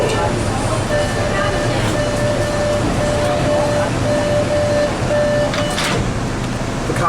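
A CRRC 1400 series Orange Line subway train rumbles along steadily at Haymarket on the way to Oak Grove, with a continuous loud roar, a faint electric whine and a brief clank near the end.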